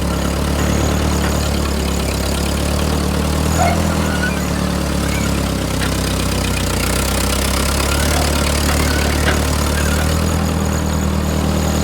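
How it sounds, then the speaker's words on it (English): A Ford 8N tractor engine runs steadily throughout with a constant low rumble, close and loud, with no voices. "Nice night for a tractor ride though."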